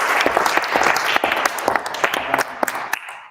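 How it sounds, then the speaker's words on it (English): Audience claps at a venture pitch competition, loud and close, with distinct individual claps in an irregular patter that thins out toward the end. "So another round of applause."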